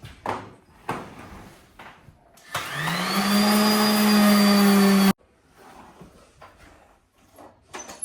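A vacuum cleaner starts with a rising whine, runs loud and steady for a few seconds, then cuts off abruptly amid scattered knocks and handling noises.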